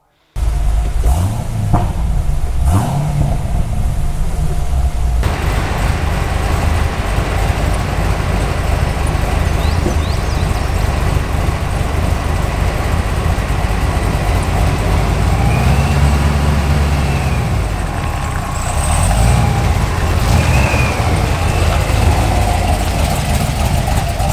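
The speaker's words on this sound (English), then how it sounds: "When you're putting the pedal to the floor, that's what it comes down to." A car engine roars loudly and steadily for the whole stretch, a dense low drone with shifting pitch as it revs hard.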